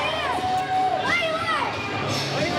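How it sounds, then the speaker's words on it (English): Wrestling crowd at a Freeport High NHW show cheering loudly for Waylon Barley, a steady roar of voices and shouts with a commentator's voice rising over it. "Crowd celebrating with Waylon Barley"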